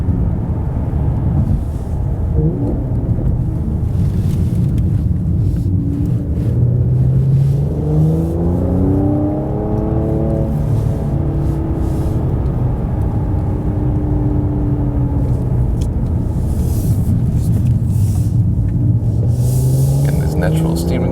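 A Mercedes C43 AMG taking corners, its engine a steady close rumble that rises and falls in pitch through a long sweep, with someone talking over it throughout.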